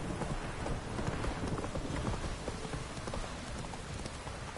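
Roach the horse galloping in a video game, steady clip-clop of hooves running close and continuous, mixed with a rain-like wash of noise and no talk.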